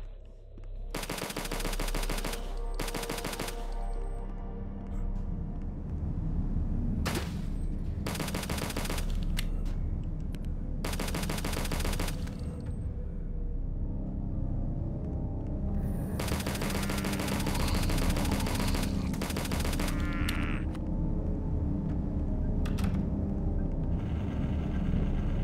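Dual pistols fired akimbo in the shooter HROT, repeated rapid volleys of sharp shots in several clusters over a constant low rumbling backdrop, close and loud.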